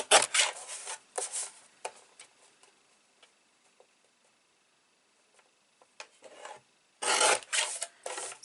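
White edges being trimmed off paper for a baby photo album, heard as a few short raspy cutting strokes in separate bursts, with quiet gaps between them.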